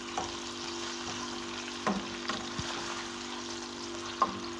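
Vegetables with carrots and chillies fry in hot oil, a steady low sizzle broken by a few soft stirring knocks, close and fairly quiet with no talk.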